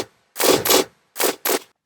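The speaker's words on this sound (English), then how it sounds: "It's a gun sample." Gun sample in a dubstep track hits in a repeating rhythm, two quick bursts, a gap, then two more, loud and noisy with no voice over it.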